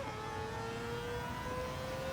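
A Mazda RX-7 with a 787B rotary engine swap revs high in Gran Turismo 7, a sustained, fairly faint whining drone holding a steady pitch throughout.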